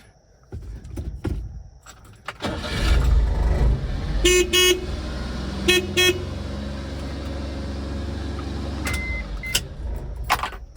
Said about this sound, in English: Let's see if the horn works. I just touched the horn button.